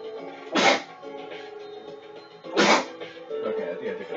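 Two sharp, loud sneezes about two seconds apart, close by, with faint background talk and room noise between them.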